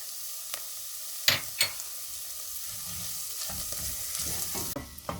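Tomato paste and dried pepper sauté in a pan for a frozen okra dish, giving a soft, steady sizzle with a few sharp utensil scrapes and clinks against the pan near the start.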